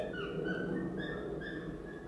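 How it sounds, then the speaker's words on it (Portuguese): Several dogs bark and whimper in the background of an indoor beauty box unboxing, a steady run of yips and whines lasting about two seconds at moderate volume. "Desculpa a cachorrada aí querendo participar do vídeo"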